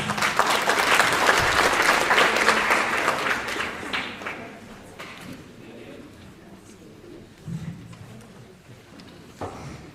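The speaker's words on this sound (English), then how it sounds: "With a round of applause." Applause from the audience at a youth parliament session in South Africa starts loud and full, then thins out over a few seconds into scattered claps and faint room murmur.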